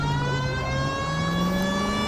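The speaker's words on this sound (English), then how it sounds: "That's the siren." Police car siren in the video game L.A. Noire wails with a steady, slowly shifting tone, continuous and fairly prominent against a constant engine-like background hum, with no talk.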